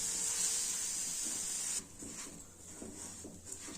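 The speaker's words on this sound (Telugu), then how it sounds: "నెయ్యిలో బాగా వేయించుకోవాలి" Rice and moong dal frying in ghee in a pan, a steady close sizzling hiss that drops in level partway through, with soft stirring scrapes afterwards and no talking.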